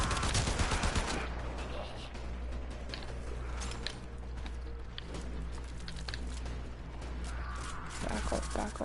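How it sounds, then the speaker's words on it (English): Sustained gunfire and combat noise in the video game Warframe, a loud rattle of shots at the start giving way to a continuous busy din of weapons and mechanisms, with another burst near the end. "lay down some cover fire."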